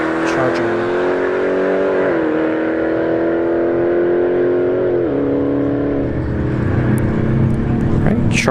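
A Dodge Charger Hellcat launches down a drag strip, its loud engine roar climbing in pitch through quick gear shifts and sustained close and heavy, with faint voices in the background.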